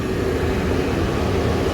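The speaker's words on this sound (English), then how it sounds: "Well, there goes the second blower." A furnace blower runs with a steady, loud, broadband rumble and whoosh of air pushed through ductwork, continuous with no breaks.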